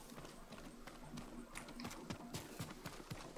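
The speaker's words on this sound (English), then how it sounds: "I gotta find there is a horse." Horse hooves galloping in the Ghost of Tsushima video game, a quick, steady drumming of thuds across the whole stretch, fairly faint with soft background game ambience.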